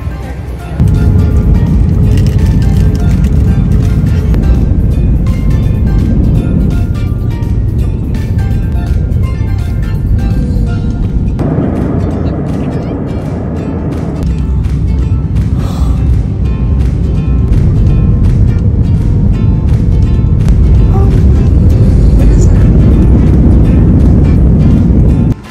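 Steady, loud broadband roar inside a passenger airplane cabin in flight, a continuous low rumble holding for the whole stretch with slight shifts in level, voices faintly beneath it.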